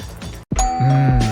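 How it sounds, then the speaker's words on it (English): A two-tone doorbell chime rings once, a clear ding-dong with a lingering tone, heard over a brief stretch of background noise. "When the doorbell rings"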